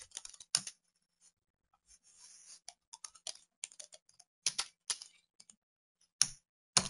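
Close typing on a computer keyboard: scattered bursts of crisp key clicks with short pauses between them, no talking.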